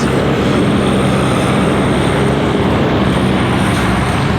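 A vehicle pulling a gooseneck trailer drives across a lawn close by, producing a loud, unbroken engine rumble and road roar that stays level throughout.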